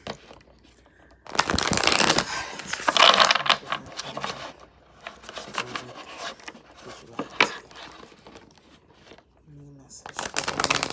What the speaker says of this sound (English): So I'm going to pull a card from the Divine Feminine.